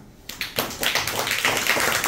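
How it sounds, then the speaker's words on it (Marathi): A classroom of children claps again, the applause beginning abruptly and continuing as a dense, fairly loud patter of overlapping handclaps. "टाळ्या कमी पडतायत बघा."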